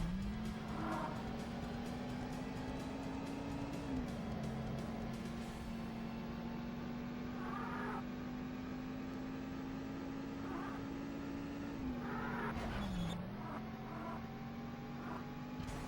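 A racing car engine in the Need for Speed video game on Sega Saturn drones steadily at high revs throughout, with brief dips as gears shift around four and thirteen seconds, plus faint tire and track noises.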